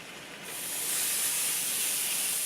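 Steam hisses steadily under a lid over a pan of cooking enchiladas rojas, a bright airy wash that swells within the first half second and then holds at a constant level.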